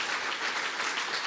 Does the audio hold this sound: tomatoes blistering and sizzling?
no